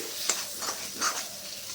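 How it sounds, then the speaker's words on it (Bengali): Partly boiled moong dal is stir-fried in a pan for a fish-head dal, with a constant close hiss of sizzling oil and a few quick scrapes of the spoon. "ডালটা দিয়ে ভালো করে একটু কষিয়ে নেব"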